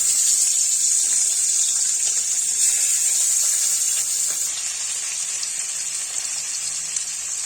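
Tangra fish frying in oil in a kadai, giving a steady, loud hiss and sizzle that runs without a break and with no voices.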